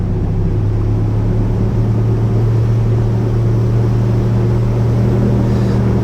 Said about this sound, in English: we'll just throttle up now